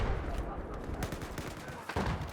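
Rapid Battlefield 4 gunfire, dense overlapping shots crackling in quick bursts, moderately loud and close, with a heavier impact near the end.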